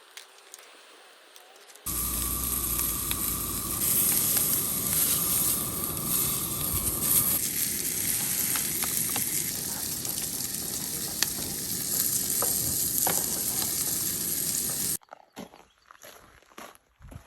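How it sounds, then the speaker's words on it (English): Onions sizzle and fry with bratwurst in a pan, a loud, dense crackling hiss that starts abruptly after a quiet moment, runs steadily with faint scrapes of stirring, then cuts off. "we typically toss the onions in with the brats so that they're nice and caramelized"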